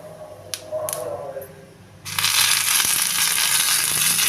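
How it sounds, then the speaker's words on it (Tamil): Mustard seeds, urad dal and curry leaves are tempered in hot oil for a groundnut chutney served with idli. After a few light clatters, a loud, dense crackling sizzle bursts in and spreads steadily, close by and with no talk over it. "கடுகு உளுந்தம் பருப்பு பொரிஞ்ச உடனே வாசனைக்காக கருவேப்பிலை சேர்த்துக்கலாம்"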